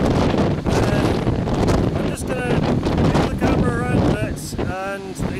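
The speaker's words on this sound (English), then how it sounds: "It's so windy on the other side that you won't hear a word" Strong wind roars and buffets the microphone continuously at a wind farm, loud and close, with a voice speaking intermittently underneath.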